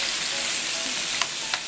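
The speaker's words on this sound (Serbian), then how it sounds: "i meso pržite jedno 7 minuta, svaki minut okrećajući na drugu stranu" Meat fries in a pan with a steady, fairly quiet sizzle and hiss, broken near the end by two brief clicks of the meat being stirred or turned.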